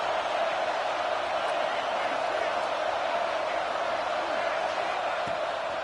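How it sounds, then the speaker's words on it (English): Home crowd at a USF football game roaring loudly, a dense, steady wall of cheering and noise that holds unbroken from start to finish. "how nice is it to have the home crowd going absolutely bananas?"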